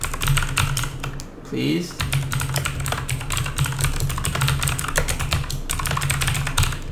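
Fingers type C++ code on a computer keyboard in rapid, dense clatter of clicks, nearly continuous with a brief pause, while someone talks over it.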